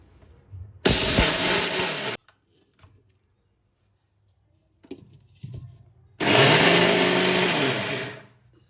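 Electric mixer grinder grinding horse gram in two loud, steady whirring runs, each about one to two seconds long, separated by a quiet pause with faint clatter.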